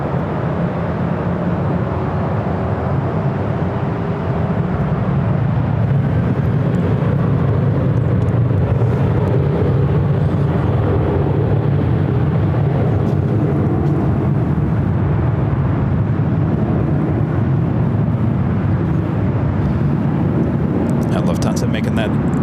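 A Southwest airliner rolls for takeoff from runway 24 left at LAX, its engines making a broad, steady roar that swells and holds for about twenty seconds while a voice talks over it.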